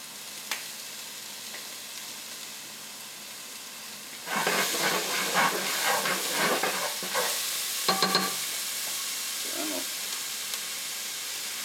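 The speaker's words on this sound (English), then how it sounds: "drop some onions in, salt, also going to put some dried thyme" Onions, salt and dried thyme hit a hot pan that held cooked potatoes, starting a loud, steady sizzle with stirring scrapes and clatter after a quiet opening, with no talking.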